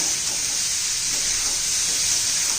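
Raw papaya pieces sautéing in hot oil with turmeric and salt, a dense steady sizzle and hiss filling the whole stretch, close and continuous with no talking.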